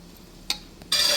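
Beef curry mixture with garlic being stirred before pressure cooking, a couple of soft scraping knocks followed by a louder burst of close stirring and sizzle at the end, brief and near.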